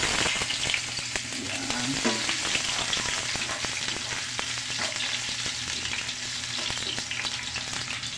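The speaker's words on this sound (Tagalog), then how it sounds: "init na ating mantika. Simulan na tayo. Ito, ginger muna unahin natin." Ginger sizzles in hot cooking oil while making kinamatisang tuyo, a Filipino dish, with a steady loud crackle throughout, stirring scrapes over it and a brief spoken word.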